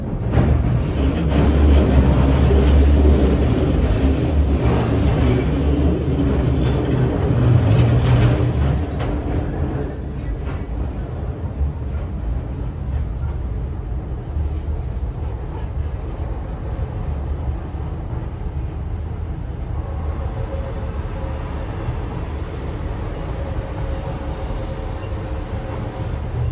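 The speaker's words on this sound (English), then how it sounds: "this train is going to Lewisham" A Docklands Light Railway train running from Canary Wharf toward Lewisham rumbles steadily from inside the carriage, heavy low drone and rattling louder at first, then settling into a constant hum with faint background voices.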